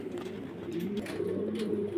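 Jet-black pigeons at a pigeon seller's loft coo steadily in low, rolling murmurs, several birds overlapping in a continuous close chorus.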